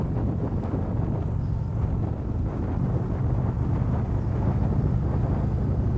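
An Indian Springfield Dark Horse 111 motorcycle, a 2019 model, rides along with a steady low engine drone buried under heavy, constant wind rush, with no talk.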